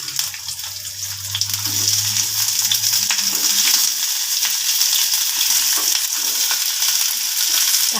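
Onions, garlic and ginger fry in mustard oil with a steady, close sizzle, a lower rumble fading after about three seconds and a few faint stirring scrapes, with no voices.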